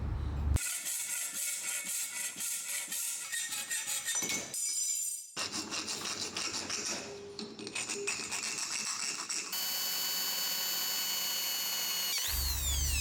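Power drill bores holes through a flat steel bar for an electric bicycle's turn-signal mount, whining in sustained bursts with a short pause and a rattly, shifting tone, then steadying into an even drone.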